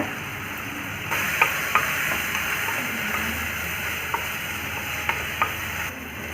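Tomatoes and onions sauté in a pan with a soft, continuous sizzle, broken by a few light clicks of stirring against the pan; no talking.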